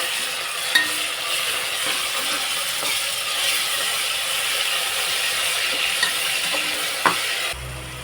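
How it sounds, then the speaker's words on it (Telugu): Ginger garlic paste frying in a pan, a continuous bright sizzling hiss with occasional soft clicks of a stirring spoon, close and alone. "అల్లం వెల్లుల్లి పేస్ట్ అయితే ఇంకా దాన్ని పచ్చి వాసన అయితే బాగా పోవాలండి అంతవరకు ఫ్రై చేసుకోవాలి"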